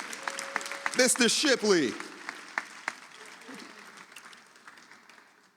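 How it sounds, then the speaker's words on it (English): Applause from an audience at Rahway's Rising Stars ceremony, clapping breaking out after someone speaks over a microphone and then tapering off into scattered claps. "Give a round of applause"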